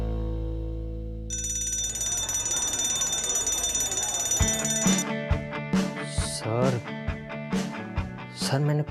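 A fire alarm, set off as a prank in a college corridor, rings with a steady electronic bell-like tone held for several seconds, then gives way to a rhythmic pulsing pattern under dramatic music and voices.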